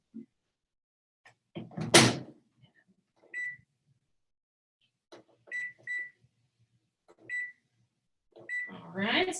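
Microwave oven in a kitchen, a door thunk followed by several short, faint electronic beeps from the keypad, with quiet pauses between them and a louder rustle at the end.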